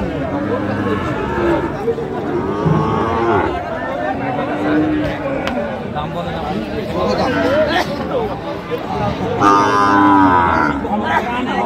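Cattle, including Sahiwal bulls and calves, moo repeatedly amid a busy Rangpur cattle market crowd, with people chattering and calling out over the lowing animals.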